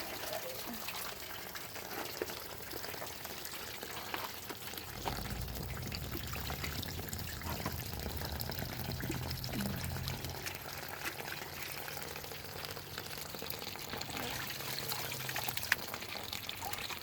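Liquids and food waste from a festival are poured into a ground digester, a steady rushing, gurgling pour under constant outdoor noise, getting heavier midway through.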